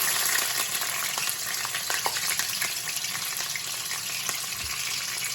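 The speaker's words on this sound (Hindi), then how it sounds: "अभी मैंने दूसरा पैन लिया है, उसके अंदर मैं पालक डाल दूंगी।" Frozen spinach, drained and squeezed by hand, goes into a second pan, giving a steady wet sizzle and frying crackle with scattered small pops, fairly close and continuous with no talking.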